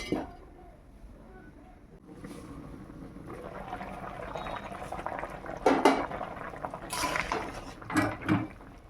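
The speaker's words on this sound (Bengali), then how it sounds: "জিরেটা ভেজে নিয়েছি, এবার আমি জল দিয়ে দেবো।" Water is poured into a hot pan of fried cumin and breaks into a hissing, bubbling boil. The sound starts quiet and swells with sharper sputters toward the end, with faint talk in the background.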